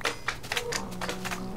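Slimes in the Minecraft video game give a fast, uneven run of sharp clicks and clacks, close and fairly quiet, with nobody talking.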